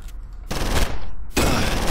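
Enemy gunfire in the horror game Condemned: Criminal Origins: a loud burst of rapid shots, a brief lull, then another dense volley, close and harsh with no talk over it.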